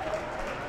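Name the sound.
Northumbria supporters' crowd cheering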